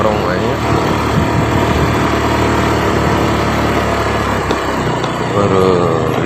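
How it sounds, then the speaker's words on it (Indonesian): A motorcycle engine runs steadily and close by on dry cornfield ground near Bantarujeg, its rough drone rising and falling a little with voices talking over it. "itu naik motor meni ngarong-ngarong aja"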